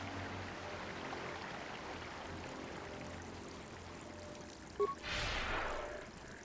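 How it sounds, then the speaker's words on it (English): Waterfall ambience in KOTOR II, a continuous soft rushing and trickling of water under a low background hum, with a brief louder splash-like surge near the end. "Appreciate the water sound effects though."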